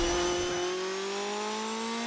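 RC car in the racing game The Crew Motorfest, a high whining motor that rises steadily in pitch as it accelerates, loud and continuous with no talking.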